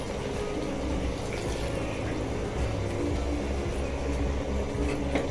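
Water pours steadily into a pot of tomato fish curry with fenugreek powder, a continuous low, faint gushing fill that lasts the whole moment with no talk.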